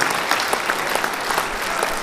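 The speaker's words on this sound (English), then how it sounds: "How about a big round of applause for all our inductees?" An audience at a hall of fame induction ceremony claps steadily, a dense, continuous applause filling the room throughout.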